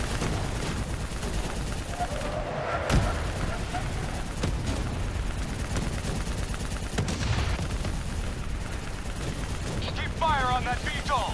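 Sustained heavy turret gunfire from Call of Duty: Black Ops 3 runs continuously during a vehicle battle, loud and dense with occasional sharper blasts, mixed with game effects and shouted voices.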